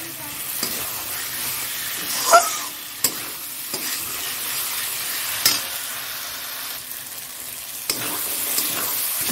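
Spice paste for egg curry fries in a pan with a soft continuous sizzle, broken by several scraping stirs of a utensil, close and fairly quiet, no talking.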